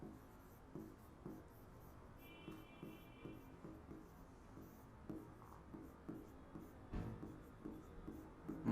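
Soft, faint strokes of writing on a board during a maths class, irregular scratchy marks repeating steadily over several seconds with no talking.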